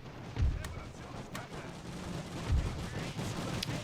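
Battle sounds from The Great War on a Serbian front, with a few sparse low thuds of gunfire over a noisy field ambience and faint talk.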